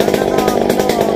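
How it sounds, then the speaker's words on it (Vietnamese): Chainsaw cutting eucalyptus trees in a cramped spot in Tiền Giang, Vietnam, running at a steady, loud, continuous drone through the short stretch. "Hôm nay ba của Hoa được em Cường nhờ hỗ trợ cưa mấy cây bạch đàn."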